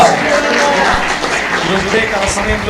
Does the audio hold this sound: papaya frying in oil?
no